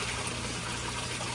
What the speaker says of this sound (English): the water's moving in both tanks, right?